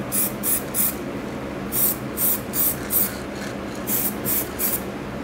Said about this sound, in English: And we're gonna spray the tool with the white.